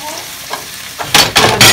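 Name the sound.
stir-frying yakisoba with cabbage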